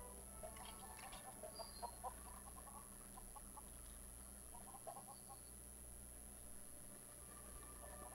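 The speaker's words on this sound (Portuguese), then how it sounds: "Agora galinhas, faltam cinco. Deixa eu pôr galinha em pasto," Chickens cluck in the LEGO Worlds video game on a pirate island, with scattered soft clucks and chirps over a steady low hum that are faint throughout.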